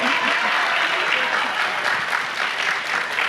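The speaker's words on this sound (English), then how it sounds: "I don't get the applause?" Steady, dense audience applause fills a festival panel hall on book bans and freedom of expression, continuous and fairly loud throughout with no one speaking over it.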